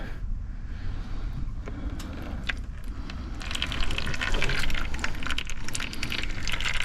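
Automatic transmission fluid drains from the power steering system of a 1998 BMW Z3 2.8 roadster, a steady liquid pour and trickle that grows louder and splashier toward the end, with no voices.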